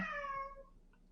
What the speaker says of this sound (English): I'm sorry about my cat in the background. He's just singing.